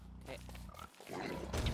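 Pigs grunt in short rough bursts beneath and between steady conversation, moderately close and mixed with the voices.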